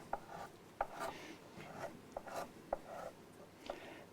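Sandpaper rubs by hand over cut edges to round them off, a series of soft, faint scratchy strokes in an irregular rhythm, each with a small tap at its start.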